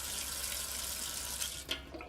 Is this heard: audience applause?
no